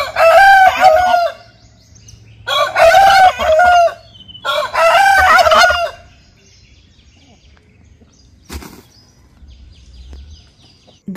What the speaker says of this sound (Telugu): ఈ కుకురుకు సౌండ్స్ వింటూ లేస్తే ఎంత బాగుంటుంది కదా.